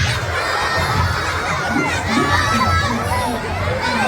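A group of young children in a first- and second-grade class shout an answer together, a loud, continuous crowd of overlapping voices filling the whole moment.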